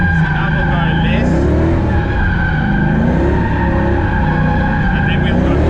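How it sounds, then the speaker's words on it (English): Car drifting with tires skidding and squealing over a loud engine, a continuous close screech with wavering pitch as the throttle varies; someone talks over it. "using that accelerator to break the traction, and then you can let off from there."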